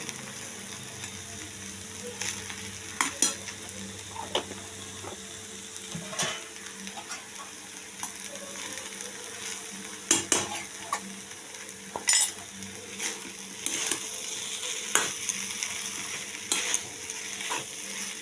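Chira pulao of flattened rice stirred in a pan with ghee, a steady low sizzle under repeated scraping and clinking of a spatula against the pan, close and unaccompanied by talk.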